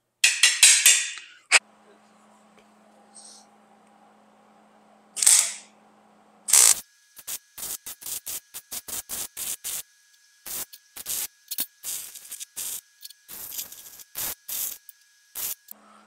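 Scrap metal parts are welded in a long run of sharp, crackling bursts. Each burst is short and separated by brief gaps, with a steady hum running underneath and a few louder hisses before the welding begins.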